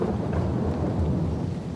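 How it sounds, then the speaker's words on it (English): A sudden thunderstorm in England brings a steady loud roar of rain mixed with low rumbling thunder, filling the whole span with no talk. "It's starting to rain."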